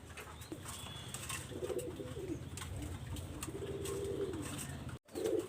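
Pure pigeons in a loft coo in low rolling phrases over a steady background hum, with faint chirps and a short break near the end.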